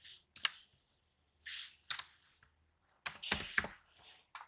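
Typing on a computer keyboard while entering data in a Microsoft Excel spreadsheet, heard as short bursts of close, crisp key clicks separated by brief pauses, with no talking.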